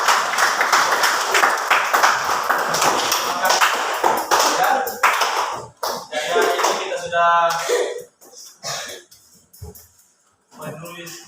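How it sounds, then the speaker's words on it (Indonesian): Classroom applause from teacher and students, a dense burst of many hands clapping at close range that gradually thins out into scattered claps and brief pauses. "Kita berikan aplaus untuk Mas Lili."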